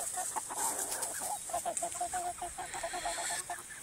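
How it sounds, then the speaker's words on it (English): A young Dominique rooster, about fourteen weeks old, clucks in a quick, steady run of soft calls against constant farmyard background noise, fairly faint and without talk. "So there's the one rooster."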